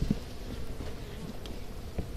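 Honeybees buzz steadily around an open hive during an outdoor summer inspection, a continuous close insect drone with a few brief louder passes near the start and end.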